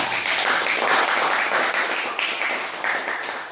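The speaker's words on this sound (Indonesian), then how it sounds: "kita beri aplaus" A classroom group applauds a student's answer, dense steady clapping from many hands that stays loud and close throughout, with no voices over it.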